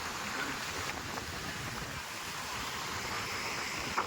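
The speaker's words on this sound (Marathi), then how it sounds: "अरबी समुद्र, रत्नागिरी." Waves of the Arabian Sea wash onto the shore at Ratnagiri as a steady, moderately loud surf hiss, with wind buffeting the microphone and no talking.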